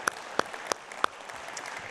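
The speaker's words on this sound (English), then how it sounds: "you should applaud that" Audience clapping at a Marriott main stage event, a few sharp distinct claps at the start settling into a light, scattered patter, brief and moderately loud.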